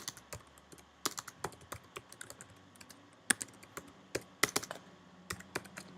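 Rapid, irregular clicking of keys on a computer keyboard, close and fairly quiet, with occasional louder keystrokes and no talking.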